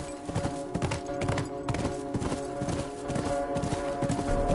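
Quick, rhythmic hoofbeats of a galloping horse in the video game The Last of Us Remastered, loud and close, pounding steadily over a low background hum.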